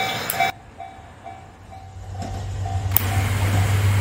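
A Kagoshima city tram, the Nanohana-go, approaches from Minami-Kagoshima station past a level crossing, its low steady rumble building louder and closer after a short gap, with a crossing signal tone pulsing faintly and evenly early on.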